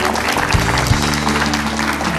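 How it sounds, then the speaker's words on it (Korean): A television studio audience claps to welcome a KAIST professor onto the stage for a science-and-art lecture, a dense, loud, even burst of applause lasting a couple of seconds. "교수님 큰 박수로 모시겠습니다."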